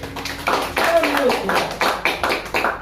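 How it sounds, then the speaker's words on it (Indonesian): A church congregation clapping in a burst of rhythmic applause, with a preacher's voice talking over it throughout. "Tepuk tangan untuk Tuhan Yesus."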